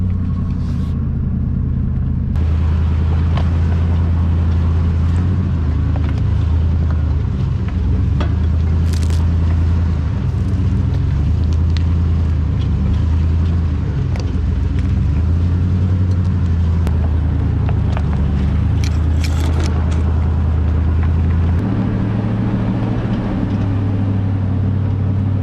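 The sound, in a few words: off-road vehicle driving slowly up a hill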